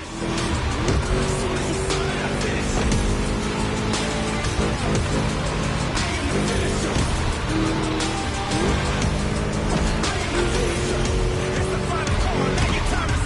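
A V8 car engine roars steadily in The Crew Motorfest racing game, loud and continuous throughout with tire squeal and skidding mixed in, under a dense layer of game audio and music.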